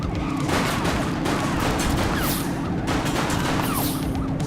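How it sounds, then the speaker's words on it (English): Continuous gunfire from the top-down police action game The Precinct, a dense fusillade of rapid shots with heavy booming impacts throughout, loud and unbroken under the game's background noise. "Shooting!"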